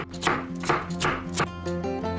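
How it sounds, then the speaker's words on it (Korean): A knife chopping bell pepper into small pieces on a cutting board, four or five crisp evenly spaced chops close up over quiet background music, no talking. "파프리카 4분의 1개도 작게 썰어 주세요"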